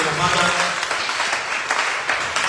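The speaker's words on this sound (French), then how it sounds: "Acclame encore pour le Seigneur" A congregation at a prayer meeting applauds for the Lord, a dense wash of clapping that holds steady with some voices mixed in, fairly loud and close.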